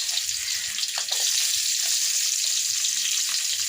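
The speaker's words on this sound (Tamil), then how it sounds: "இப்போ இந்த எண்ணெயில் இஞ்சி பூண்டு சேர்த்துக்கலாம்" Ginger and garlic sizzle in hot oil in a pan, a steady hissing crackle with a few faint clinks, close and continuous, with no talking.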